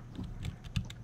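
Rapid bursts of keystrokes on a computer keyboard during a Minecraft-style gaming session, with a few louder clacks standing out in a short, uneven flurry close to the microphone.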